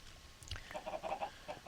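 Minecraft chickens clucking in short bursts, a handful of soft blocky bird calls repeating quickly at low volume, close and alone without talk.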